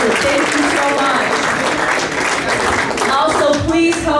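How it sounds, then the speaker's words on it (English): A crowd at a Lake County Honor Flight reunion event applauds its volunteers, with dense, steady clapping filling the room throughout and a voice briefly rising over it near the end. "Let's give them a big round of applause."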